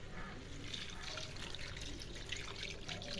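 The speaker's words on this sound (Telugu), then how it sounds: "ఇప్పుడు వాటర్ వేసేసుకుందామండి." Water pours steadily into a pan of fish curry, a faint, continuous splashing trickle that stays even throughout. No voices over it.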